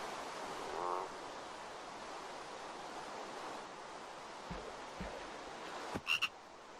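A frog croaks in a modded Minecraft-style video game, with a brief croak early on and a louder cluster of croaks near the end over a quiet background hiss, with no talking.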